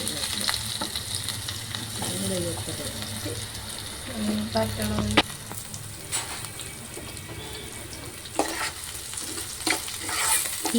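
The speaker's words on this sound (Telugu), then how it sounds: "మనము ముందుగా కట్ చేసి పెట్టుకున్న చిన్నగా ఉల్లిపాయ ముక్కలని ఈ ఆయిల్లో వేసేయాలి." Small chopped onion pieces go into hot oil with cumin seeds for a dhaba-style mutter masala curry, giving a steady sizzle and bubbling with stirring and scraping throughout.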